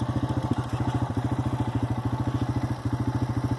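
A four-wheeler ATV engine runs close by on a hill, a loud, evenly pulsing idle with a rapid rhythmic chug that holds steady throughout.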